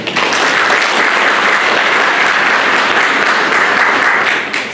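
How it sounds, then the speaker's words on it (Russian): Sustained audience applause at a community awards presentation honoring a top local self-governance group, loud and steady throughout with no voices over it, tapering slightly at the end. "Пожалуйста, ваши аплодисменты."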